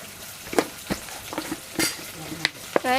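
Salt, chili powder and turmeric being stirred into a frying curry, with sharp sizzles and scattered clinks of a spoon against the pan in an irregular rhythm, close and fairly loud, with no talking.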